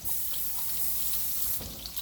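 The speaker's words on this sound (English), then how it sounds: "I need a little bit more water in there to thin them out a little bit." Water pours into a pot of slow-cooked grits for breakfast, a steady broadband splashing and trickling that continues alone for about two seconds, with a brief louder surge near the end.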